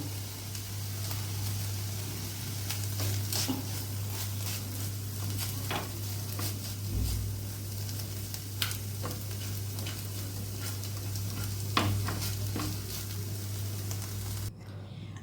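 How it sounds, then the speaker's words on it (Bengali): Chicken stuffing fries in a pan with a steady close sizzle and occasional stirring scrapes and taps, with no talking. "আমার চিকেনটা অলমোস্ট ফ্রাই হয়ে গেছে"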